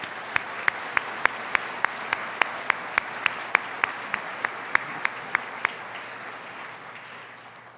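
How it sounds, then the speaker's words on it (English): A crowd applauds at a memorial event, a dense wash of clapping with some sharp individual claps standing out, gradually fading toward the end. "Let's give them a big round of applause."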